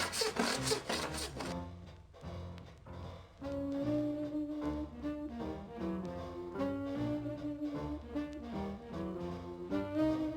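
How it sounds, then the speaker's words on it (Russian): A special saw works over the surface of a dented aluminium panel during repair, making quick, rhythmic rasping strokes that repeat steadily, close and fairly loud, with no talk. "Обрабатываем поверхности специальной пилой."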